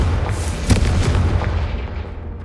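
A Confringo spell blast in the game Hogwarts Legacy: a heavy, booming explosion that hits sharply and then rumbles and fades away over a couple of seconds.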